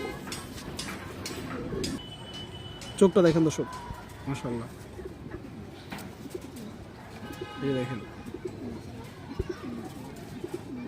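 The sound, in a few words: female Giya Mushaldom pigeon cooing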